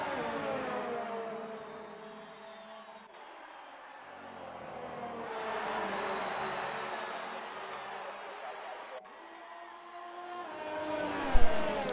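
Race cars driving at Silverstone in a racing game, engines whining and droning continuously as they rise and fall in pitch through gear changes, with a short thump near the end.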